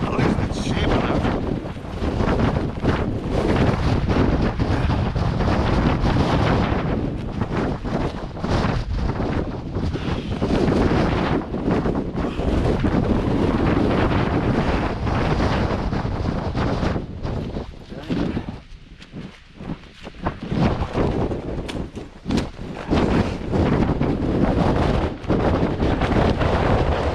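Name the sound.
strong wind buffeting a tent at a stormy lake camp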